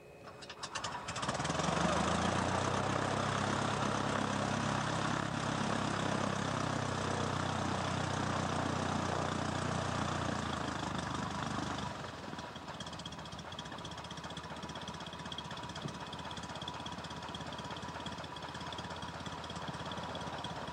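A small propeller plane's engine drones loudly and steadily at close range for about ten seconds, then cuts to a quieter, thinner engine sound that carries on to the end.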